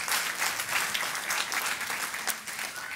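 A church congregation applauds during a sermon, steady dense clapping that fills the room evenly for a few seconds without a break.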